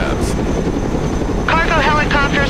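A cargo helicopter in the Broken Arrow war game, its rotor roaring loud and close with a pulsing whine, while a voice talks over the steady engine noise.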